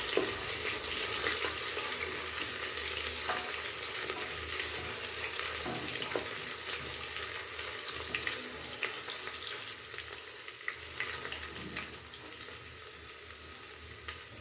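Bay leaf and crushed ginger frying in oil for a rice bath, a steady, dense sizzling hiss with faint crackles and occasional soft stirring knocks, continuous and close, slowly easing toward the end.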